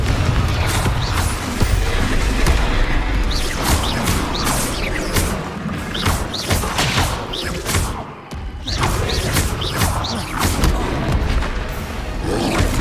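Spell explosions in a Hogwarts video game, Confringo and Bombarda blasts going off one after another as a dense run of heavy booms and crashes with rumbling, mechanical clatter and short bursts throughout.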